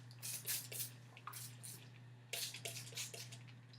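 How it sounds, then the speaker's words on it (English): Hairspray misted around the edge of the hair in several short bursts, with quick hissing puffs grouped in two clusters over a steady low hum. "So just spraying around the perimeter of my hair."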